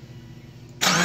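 A Subaru Forester XT with a built EJ25 engine, fuel recently drained, cranks with a low steady churn before catching abruptly into a loud, bright burst of running engine at the end.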